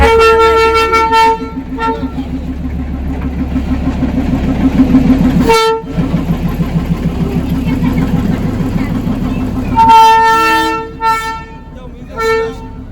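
Darjeeling toy train on a joy ride, with loud, repeated horn toots at the start and again near the end over a steady rumble of engine and track.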